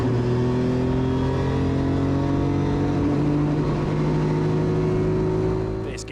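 A Toyota Yaris rally car accelerates hard on a tarmac rally stage, its engine a loud, steady, close roar with rising harmonic pitch that holds throughout before easing off at the very end.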